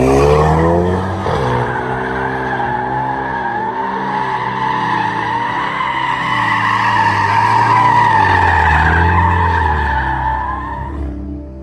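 Mercedes-AMG A35 drifting in Egypt: a loud, continuous tire squeal wails over the revving engine for about eleven seconds, rising and falling in pitch as the car slides, with no voices.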